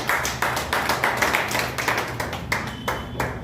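Audience applause for the author at a book launch ceremony for a history of Vadde Obanna, a steady patter of hand claps with no talk over it.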